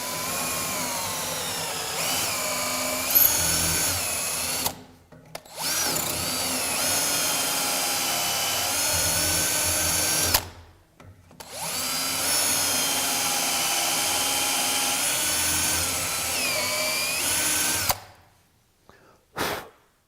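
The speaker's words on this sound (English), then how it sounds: "Now drill these 3 A-position holes and clear the chips by plunging up and down." A power drill bores three holes into wood through a BeadLock drilling guide, its whine running loud and steady in three long bursts separated by short pauses as the bit plunges in and out to clear chips.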